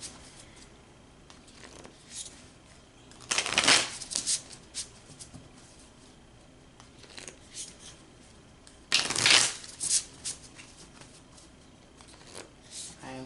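Playing cards shuffled in two loud riffle bursts separated by a quiet stretch, with softer handling noises between.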